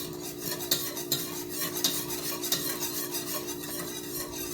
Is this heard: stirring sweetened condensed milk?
yes